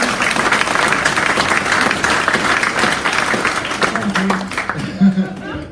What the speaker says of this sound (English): Give a round of applause to the captain.